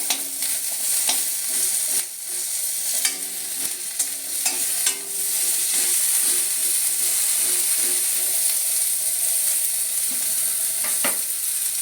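Green chillies and curry leaves crackle in hot oil with popped mustard seeds in a pan, a loud steady sizzle with bursts of spatter and a few scraping stirs, no voices.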